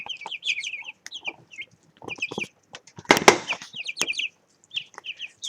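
Ten-day-old chicks in a brooder give repeated high, thin peeps and cheeps in quick clusters, close by, with a brief rustle and wing-flapping scuffle partway through.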